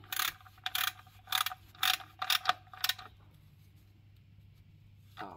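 Rapid clicking bursts from a ratchet tightening a bolt during car maintenance come in several quick close strokes over a low hum, then fall quiet.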